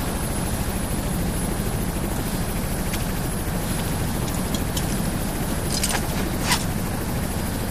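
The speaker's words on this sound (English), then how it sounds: "We've got choppers inbound to pick you up." A helicopter arrives in the video game Ghost Recon: Future Soldier as a steady, loud rotor chop with a thick low drone, joined by a few brief sharp clicks and mechanical rattles.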